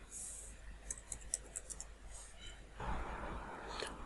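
Keys clicking on a computer keyboard as an IP address is typed for a ping on a Windows 7 machine; a short run of light, quick taps at low level, followed by a brief burst of broadband noise near the end.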